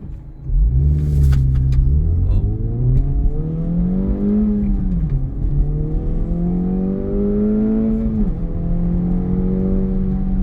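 An Acura Integra Type S engine pulls hard from a stop and climbs in pitch through several gears, dropping briefly at each shift, loud and close with no talking.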